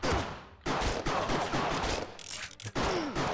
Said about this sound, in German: Und diese ganzen Horden an Gegnern schießen